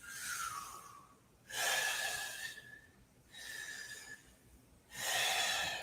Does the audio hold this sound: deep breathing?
yes